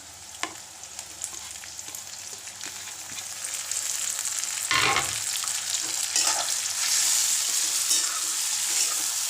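Vegetables and tomatoes hit a hot frying pan and sizzle steadily, with stirring scrapes and a louder burst of frying about halfway through as more goes in, continuous and close with no talking.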